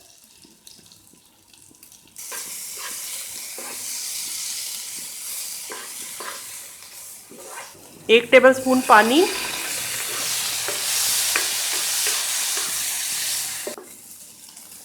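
Small chicken pieces with ginger-garlic paste and tikka masala sizzle steadily in a hot pan, flaring into louder crackling and stirring midway; a voice speaks briefly at the start.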